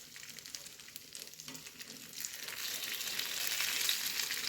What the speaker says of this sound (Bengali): এখন আমি বড়াটি ভালোভাবে ভেজে নেব।